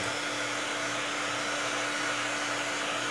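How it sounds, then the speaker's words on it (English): A heat gun blows hot air over custom fishing tackle: a steady, continuous blast of air with a constant electric motor whine, unchanging for the whole stretch. "grab your heat gun, which can be bought at any local hobby shop, or you can use a hair dryer"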